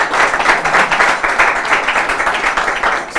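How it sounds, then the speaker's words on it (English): An audience breaks into applause at a live celebration of PRESEC's seventh NSMQ quiz win, a steady, dense clapping that holds evenly for about three seconds with no talk over it. "Round of applause."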